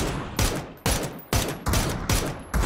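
Rapid bursts of gunfire in the battle royale game PUBG, loud and close, arriving in five or six sharp volleys with brief gaps between them and no talk over them.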